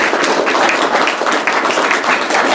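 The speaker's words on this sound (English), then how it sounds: "Let's give our open mic readers and David and Nancy a big round of applause" Close, loud round of clapping from an audience at an open mic poetry and prose reading, a dense continuous patter of many hands with no voices over it.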